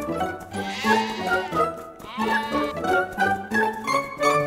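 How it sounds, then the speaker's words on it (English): Cartoon sheep bleating in a rapid series of wavering, nasal cries, close and fairly loud, with no talk over them. "The four sheep have reached the pond."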